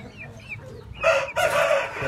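An aseel rooster crows loudly and close by after a few soft clucks from chickens, the crow rising sharply and holding for about a second.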